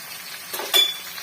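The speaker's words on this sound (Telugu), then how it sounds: "వేపుతున్నానండి." Mushrooms fry in oil with a soft sizzle, and a brief stir or clink of a utensil against the pan rises in the middle before settling back into the steady hiss.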